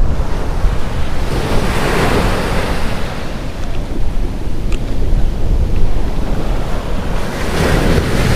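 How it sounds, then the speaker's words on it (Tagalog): Ocean waves crash and wash onto a beach at Zambales, the surf roaring continuously with surges of spray, mixed with strong wind buffeting the microphone. "Nakakatakot yung alon."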